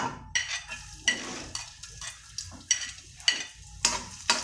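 Garlic fries in hot oil with a soft sizzle while a spatula clinks and scrapes the pan in irregular bursts. The sound is close but fairly quiet, and no one talks.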